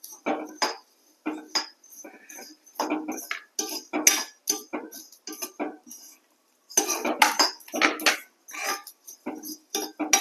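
A utensil scrapes and rattles against a dry pan in repeated bursts with short pauses, stirring sambar powder spices as they dry-roast without oil.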